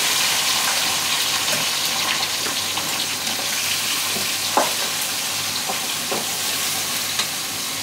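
Seasoned french fries frying in hot oil, giving a loud, steady, close sizzle with occasional pops and crackles throughout, no talking.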